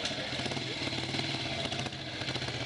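A vintage Horex motorcycle engine runs steadily with a dense, continuous mechanical clatter at close range, the tone holding constant throughout with no pauses.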